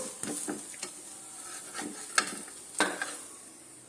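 Black urad dal and pepper adai browning on a pan, with a faint steady sizzle and scattered spatula scrapes and clicks against the metal, a few sharper taps standing out.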